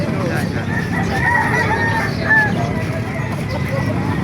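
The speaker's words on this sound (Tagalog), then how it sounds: "Lumagsa ang manok dito sa Kalumpit, Tiangge." Chickens and roosters at an outdoor poultry market (tiangge) in Calumpit, Bulacan, crowing and clucking continuously up close, with a bustling crowd murmur and occasional voices underneath.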